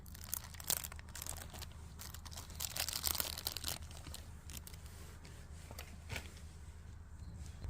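A plastic bag holding a Philips AE1630 radio crinkles and rustles in quiet, irregular bursts while the radio is unpacked, with a low steady hum underneath.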